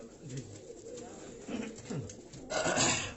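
Pigeons in a Karachi loft give low throaty coos in short rolling phrases, several birds close together with faint background chatter and a brief rush of noise near the end.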